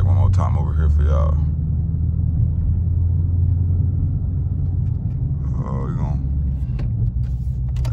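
Dodge Challenger 392 Scat Pack V8 idling with a deep, steady low rumble close by, while someone talks over it at the start and again near the end.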